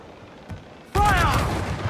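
A ship's cannon firing in Assassin's Creed IV: Black Flag, one sudden heavy blast after a near-silent moment, followed by a rumbling roar with a shouted voice over it.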